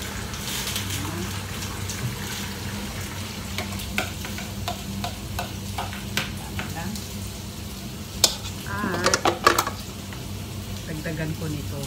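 Curry paste being stirred in a pan for chicken curry, a steady wet sizzle with scraping spoon strokes and a few louder clinks near the end, a person talking over it.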